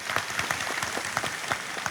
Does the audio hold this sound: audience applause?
yes